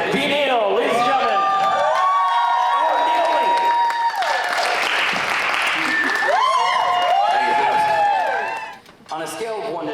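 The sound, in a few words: audience applause and cheering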